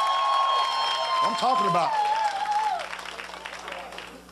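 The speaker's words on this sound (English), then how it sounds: "Clap for Barack Obama." Comedy club audience applauding during a stand-up set, a dense clapping wash that fades steadily toward the end while someone speaks over it and a brief vocal outburst rises in the middle.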